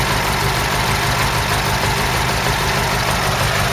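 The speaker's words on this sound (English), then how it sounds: "there's our engine tick over" A Ford Cortina MK3 engine idles on soft mountings, giving a steady, loud, even rumble with a faint high whine throughout and no voices.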